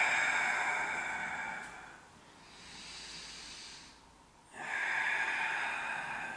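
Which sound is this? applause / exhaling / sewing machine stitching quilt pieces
exhaling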